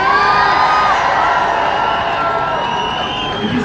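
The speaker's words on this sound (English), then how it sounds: "let's start by cheering for the South Africans" A large protest march crowd cheering and whooping continuously, loud and close, with many voices blending into a sustained roar.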